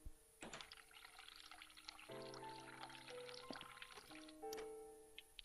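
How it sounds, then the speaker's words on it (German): A cold water tap runs in The Cat Lady game, a faint, quiet trickle and pour with scattered drips and soft tones alongside. "Ich mache mal hier das kalte Wasser an."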